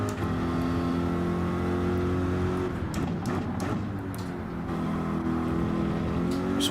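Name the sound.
race car engine in Gran Turismo video game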